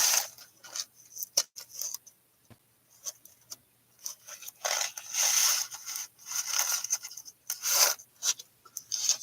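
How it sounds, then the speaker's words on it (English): Pieces of smooth, variously colored sea glass are handled, giving dry scraping and clinking rubs in irregular bursts, close and fairly quiet with no talk. "sea glass."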